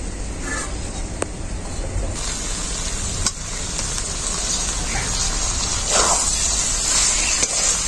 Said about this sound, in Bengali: ফুলকপিটাকেও একটু হালকা নাড়াচাড়া করে নেব মশলার সাথে।